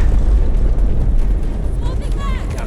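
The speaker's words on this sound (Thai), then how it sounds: "เออรถระเบิดดีแล้ว" A loud, rumbling car explosion in the video game Delta Force, its roar sustained across the whole moment with some crackling debris near the end.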